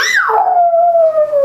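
A human voice imitates an elephant's trumpet: one high, drawn-out call that drops in pitch and holds steady for about a second.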